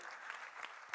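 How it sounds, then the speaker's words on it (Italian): An audience applauds at a sports awards ceremony in Enna, a brief, steady wash of clapping from a crowd in a hall. "Grazie, un applauso a Franco Anastasi."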